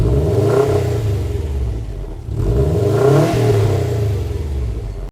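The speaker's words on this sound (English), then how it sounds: "most of you guys would want to hear the exhaust note of this STI" A Subaru WRX STI with a 296-horsepower engine and quad exhaust revs twice from idle, each rise swelling and falling back, fairly loud and close, with no talk.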